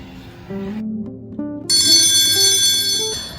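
A school bell rings out loudly and continuously for a few seconds, a bright sustained electric tone alone with no talking.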